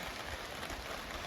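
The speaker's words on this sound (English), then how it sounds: "Starting to rain." Rain starting to fall at an outdoor campsite where steaks and pork loin are being grilled, a dense, even patter of drops on surfaces, soft and steady throughout.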